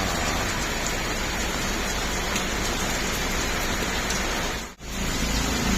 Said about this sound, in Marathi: रस्ता बघा पूर्ण बघा, जरा तसा पाऊस लागलेला आहे